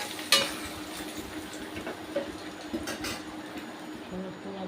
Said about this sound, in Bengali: বাকি মাছগুলো আমি এভাবেই ভেজে নেবো